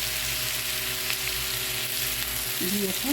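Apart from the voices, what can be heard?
tomatoes frying with onions in a pan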